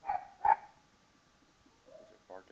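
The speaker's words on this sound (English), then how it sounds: "Is it barking there in the background?" A dog barks twice in quick succession at a distance, then a faint whimper and one more short yip follow in an otherwise quiet background.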